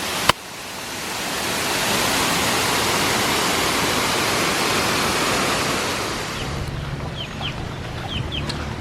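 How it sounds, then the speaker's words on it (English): Binang-Awan Falls on Camiguin pours with a loud, steady broadband roar of falling water that fades slightly near the end as faint chirping birds emerge. "Beautiful waterfall in Camiguin."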